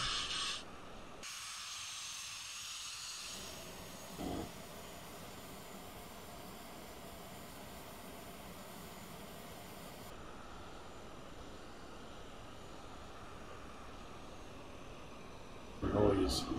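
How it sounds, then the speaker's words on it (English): A steady hissing jet engine roar from a Eurofighter Typhoon in Flight Simulator X runs throughout, broad and constant with a few brief shifts in tone, heard alone without talk. "This is the Just Flight Eurofighter Typhoon."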